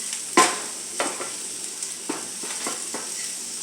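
Vegetables for a beef stew are stirred in a hot pot, with a steady sizzle beneath several scraping strokes of a spoon against the pot, close and clear.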